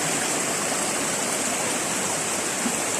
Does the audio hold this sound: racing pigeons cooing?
no